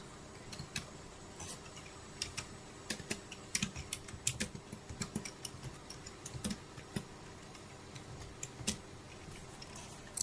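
Someone types a product code and name on a computer keyboard in accounting software. Quiet, irregular clicking keystrokes come in short bursts and scattered single taps for about ten seconds, close-miked against a faint room hum.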